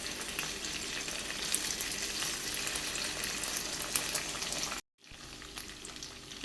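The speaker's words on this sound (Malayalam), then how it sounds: "ഇതുപോലെ നമുക്ക് എല്ലാ സൈഡും ഫ്രൈ ആയി വരുന്ന പോലെ മറിച്ചിട്ട് കൊടുക്കാം" Chicken pieces in green masala sizzle and fry steadily in a pan for several seconds, with a brief drop to silence before the frying resumes; no voices are heard.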